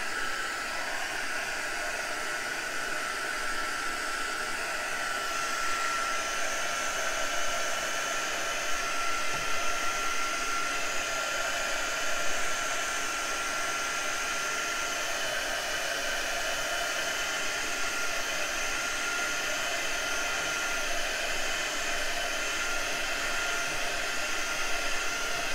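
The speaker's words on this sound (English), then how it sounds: "this is my heating tool here. It's an embossing tool. I'm gonna just quickly try and run that over and let it dry it a little bit" A heat embossing tool blows steadily to dry acrylic paint on a floral canvas, a continuous near, even whoosh of hot air with a hairdryer-like hiss that holds at one level throughout with no talking.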